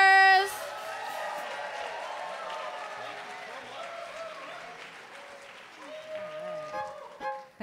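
Audience at a country music night applauds and cheers for a country band, steady clapping with whoops and chatter mixed in.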